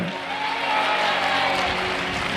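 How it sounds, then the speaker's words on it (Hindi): A church congregation at a Jharkhand revival meeting breaks into steady, dense applause during a sermon, a continuous wash of clapping that fills the hall without pause. "जितने लोगों ने आमीन बोलकर ताली बजाई है"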